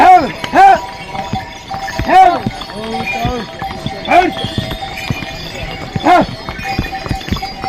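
Horses on the Char Dham pilgrimage route, several loud arching whinny-like calls and sharp clip-clop hits spaced a few seconds apart, close by, over a busy outdoor background with chattering crowds.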